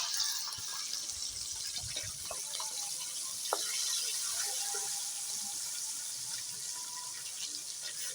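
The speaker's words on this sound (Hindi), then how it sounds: "अब इसमें हम डालेंगे अपनी ग्रेवी जो हमने बनाई थी" Dal gravy hits hot oil in a pan, giving a steady, loud broadband sizzle and hiss that holds for the whole stretch, with small crackles and pops scattered through it and no voices.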